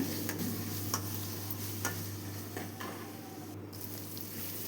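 An audience applauds loudly at a high school choral spring concert, with sustained clapping and some cheering, tapering off slightly toward the end.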